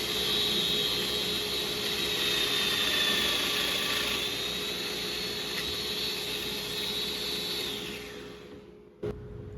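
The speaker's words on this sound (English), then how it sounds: "Next, I cut the mortises into the support pieces as well as the leg stretchers." A power tool whines steadily while cutting mortises into wooden support pieces and leg stretchers for a mid-century coffee table, a loud continuous drone that winds down near the end, followed by a brief clunk.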